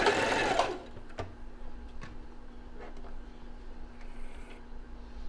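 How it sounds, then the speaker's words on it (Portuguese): A sewing machine runs a zigzag seam in a brief loud whirring burst at the start, then falls to faint, scattered mechanical ticks. "Então, fiz essa costura aqui, né, como vocês estão vendo. No zigue-zague ela ganha elasticidade."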